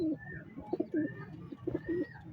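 Racing pigeons coo inside a loft, several low rolling coos repeating in a soft rhythm, close and moderately quiet, with no voices.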